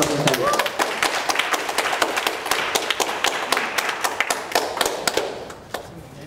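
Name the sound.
audience applause for poetry recitation participants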